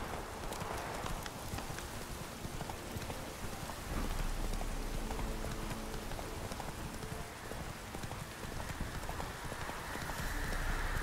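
Roach the horse's hoofbeats clopping steadily through rain in The Witcher 3, close and continuous over a constant patter of raindrops, with a faint voice now and then.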